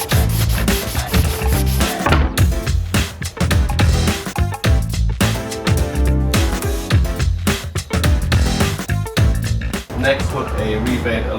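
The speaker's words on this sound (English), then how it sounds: "And now the real fun stuff, sanding" Sanding wood for a shelf makes a repeated rasping rub in quick back-and-forth strokes, loud and close, over a steady backing track, with a person talking at points.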